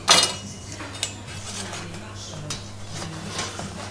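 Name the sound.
placing baked thin apple tart onto a wire rack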